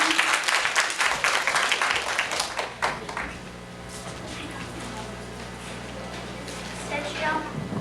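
Scattered clapping from an audience at a children's storytelling contest rises briefly, then fades into quieter murmuring and room noise, with talk running through.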